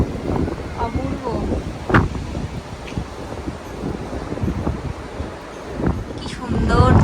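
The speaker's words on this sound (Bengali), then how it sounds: "হাওয়া দিচ্ছে তো" Wind buffets the microphone at a seaside resort in Mandarmani, a rough, gusty rumble that swells and fades, with people talking and faint surf-like wash underneath.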